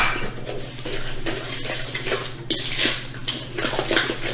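Eggs and vanilla are whisked into chocolate zucchini bread batter in a mixing bowl, a steady run of close clinking and scraping against the bowl over a low background hum, with no talking.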